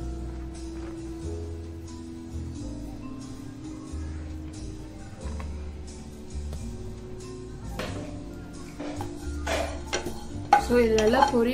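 White sesame seeds are stirred and scraped around a hot pan while roasting, in steady strokes over a low hum, with a few louder clinks near the end.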